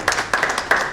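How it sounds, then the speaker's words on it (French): Audience applause at a book launch celebration, a short burst of scattered clapping with uneven rhythm over about a second, moderately loud and fairly close. "On applaudit très fort quand même"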